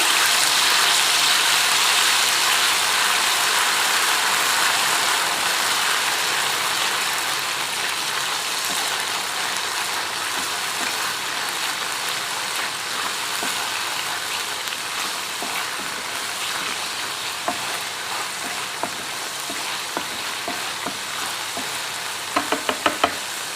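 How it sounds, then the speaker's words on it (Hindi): Liver cooking oil sizzling and frying steadily in a pan, a dense, constant hiss close by with no talk, a few light knocks of a utensil near the end. "तो थोड़ा सा ऑयल में भूनेंगे।"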